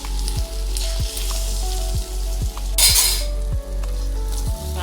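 A boiled egg omelet frying in a pan, a loud close sizzle with a regular ticking rhythm and a brief louder hiss burst midway, plus faint clinks of a utensil, no talking.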